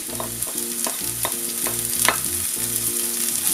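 Turkey breast cutlet stirred in a pan of melted butter with basil, a steady sizzle under repeated scraping strokes of the utensil, close and moderately loud with a tonal hum beneath.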